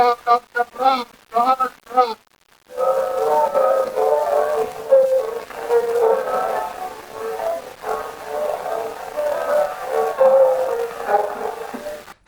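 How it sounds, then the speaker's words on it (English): Denoised old wax cylinder recording of Johannes Brahms playing his Hungarian Dance No. 1 on piano, a dense stream of notes continuing for about ten seconds after a brief choppy stretch of short sounds, with faint residual hiss. "produced a denoised version of the recording using state-of-the-art techniques"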